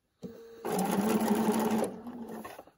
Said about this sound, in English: pivot our quilt so that we're stitching right off of the corner, right off the tip of the corner right there